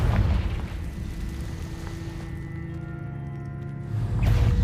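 Confringo fire spell explosion in Hogwarts Legacy: a sustained loud booming rumble with a low drone, swelling again at the end, no talk.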